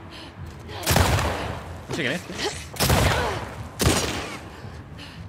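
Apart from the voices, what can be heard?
gunfire in video game The Last of Us Part II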